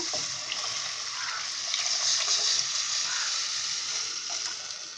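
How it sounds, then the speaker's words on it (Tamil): Tamarind water mixed with masala pouring into a pan of fish curry, a soft continuous splashing gush that swells and fades over several seconds, close by and without talk. "இப்போ நம்ம வந்து புளிக்கரைசலில் மசாலா எல்லாமே ஆட் பண்ணி வச்சுருக்கிறத வந்து என்ன பண்ணுறீங்க, இதில் ஊற்றிடுங்க."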